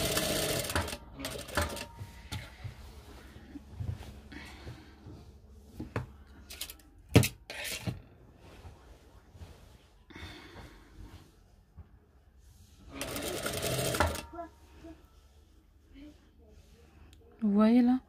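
A sewing machine stitching a khimar, its motor whirring in bursts at a moderate distance, with a longer steady run near the end; clicks and handling noises fill the gaps, and a person talks at times.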